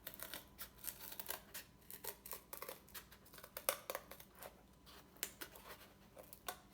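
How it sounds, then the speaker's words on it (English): Scissors snip through cardboard for a picture frame in a quick, irregular series of faint, close crunching cuts, heard alone without talk. "And then I'm cutting on that inside line."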